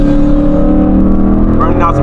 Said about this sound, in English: So this GoPro don't do justice of the sound how loud this car is.